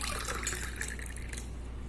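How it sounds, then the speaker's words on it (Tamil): Water pours into a glass holding homemade nannari syrup, a short steady close trickle and fill with no talking. "மீதிக்கு தண்ணி ஊற்றிக்கோங்க."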